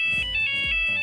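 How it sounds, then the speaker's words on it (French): A ringtone of the type once common on classic Nokia mobile phones: short bright electronic tones repeating in a quick melodic pattern, fairly close and clear, with no voices over it. "Il y a les téléphones Nokia qui ont disparu."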